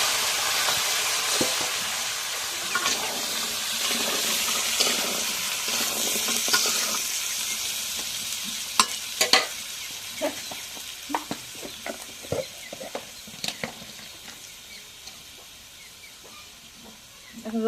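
Sweet pumpkin pieces dropped into a pan of fried onion and chili give a steady close sizzle and hiss, with scattered clinks and stirring knocks growing sharper toward the end; no talk.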